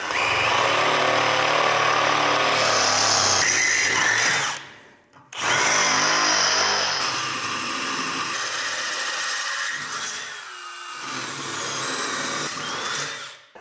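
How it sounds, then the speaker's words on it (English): A power drill with a 25/64 bit boring holes for 3/8 bolts in dethatcher parts, a loud steady whine with a brief pause midway before drilling resumes, then a lower uneven grinding. "now that we got our holes drilled"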